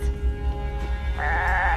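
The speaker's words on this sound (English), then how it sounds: "there's a goat on my bed" A goat bleats in a wavering, drawn-out cry that swells louder partway through, heard close and clear over a low background hum.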